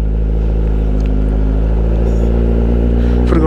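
A motorcycle engine hums loud and steady up close while riding through Las Vegas streets, a constant low rumble with slight rises in revs and wind noise and no one talking.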